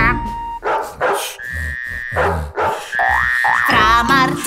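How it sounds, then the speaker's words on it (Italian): A children's song about Brother John in which voices sing dog barks and frog croaks as playful sound words, set to music. "prendi un bel cane, un rospo e delle rane, bau bau cra, bau bau cra"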